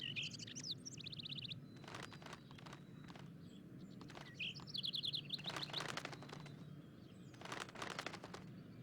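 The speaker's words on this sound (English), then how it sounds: "Mockingbirds are one of the most musically talented of all songbirds." Mockingbird singing outdoors, with repeated bursts of rapid, varied high phrases at a moderate distance, alongside intermittent rustling and footstep-like sounds.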